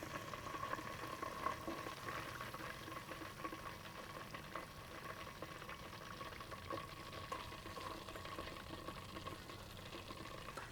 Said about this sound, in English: When your grease settles way down like it is now and your fish is floating, you're done.